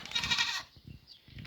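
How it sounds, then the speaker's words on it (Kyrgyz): A young dairy goat, a nanny kept for milk on a farm, bleats loudly and close for about half a second, followed by quieter low grunts and shuffling. "Жаш эчки."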